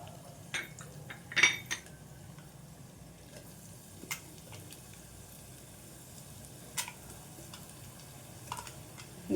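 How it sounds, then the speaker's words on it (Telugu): Garlic paste frying in an oil tempering for garlic rasam, with a quiet steady sizzle broken by a few sharp clinks of a spoon against the pan. "ఇందులో అయితే మనం పేస్ట్ని వేసుకుందాం."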